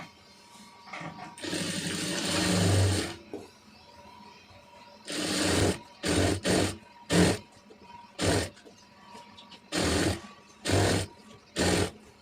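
A sewing machine stitches a cigarette pant leg in bursts: one long run, then several short stop-start runs of fast mechanical whirring, close and clear, separated by quiet pauses.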